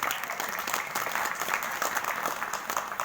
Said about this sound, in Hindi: जोरदार ताली भी बजाया करिए